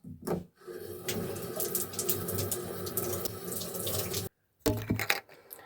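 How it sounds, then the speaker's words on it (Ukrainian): A tap runs steadily into a sink while boots are washed under the stream, a continuous close gush with a brief break before the water flows again, no speech. "І зараз буду мити чоботи."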